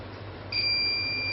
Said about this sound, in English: when the smoke sensor is get activated, the buzzer is start beeping